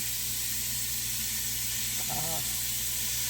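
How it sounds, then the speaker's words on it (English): Chopped onion and hamburger meat sizzle in a hot pot for a taco stew, a steady close hiss that fills the whole moment, with a brief clatter partway through. "It is sizzling hot."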